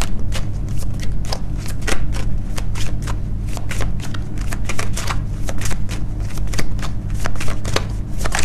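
A deck of angel oracle cards is shuffled briskly and continuously, giving rapid, close papery riffling and flicking with a steady rhythm and no talking.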